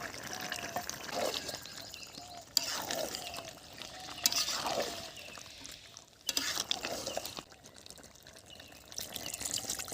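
Water being poured and stirred into a pot of chicken curry made with chicken giblets, liver, skin and feet plus fried potatoes, several soft splashing pours in separate bursts, fairly quiet.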